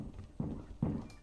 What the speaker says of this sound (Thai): เสียงเดิน